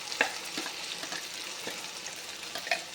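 Masala added to a pan for a Tamil kuzhambu, frying with a constant bright sizzle while a spoon stirs with a few soft scrapes and clicks, close and steady, with no speech.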